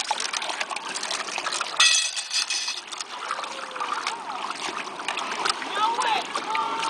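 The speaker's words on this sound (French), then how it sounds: "il est en train de faire la vaisselle à la rivière" Water splashes and trickles as dishes are rinsed in a river, with faint voices in the background.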